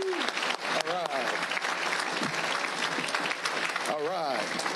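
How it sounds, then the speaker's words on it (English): Applause for students at a Rockford Public Schools board meeting, steady clapping filling the room with cheers and voices mixed in throughout. "let's give them a round of applause anyway"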